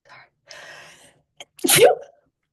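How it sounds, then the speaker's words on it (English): A quick breathy intake followed by a single loud, sharp sneeze close to the microphone. "I feel like I have to sneeze"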